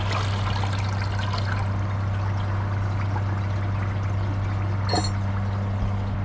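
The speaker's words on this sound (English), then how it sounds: "I'm going to empty the rest of the water out of the tank." A toilet tank is emptied of its water in a steady, continuous trickle and pour, with a constant low hum beneath it and one brief click partway through.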